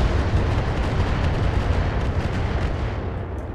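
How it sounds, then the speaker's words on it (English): Missiles in Battletech burst in a dense barrage of heavy, booming explosions that rumble loudly and overlap with no break, then ease off slightly at the end. "Oh, that's so many missiles."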